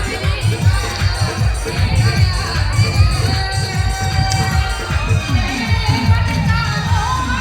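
A dense festival crowd at a Rath Yatra procession, with people dancing in the heavy rain, makes a steady loud murmur and shouting throughout, with voices overlapping close by.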